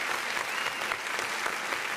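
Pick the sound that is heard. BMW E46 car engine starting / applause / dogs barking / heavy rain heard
applause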